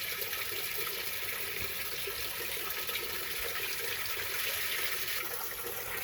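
A 2003 Whirlpool Gold Ultimate Care II direct drive washer fills with water in a steady rushing hiss, a constant close flow that runs unbroken throughout.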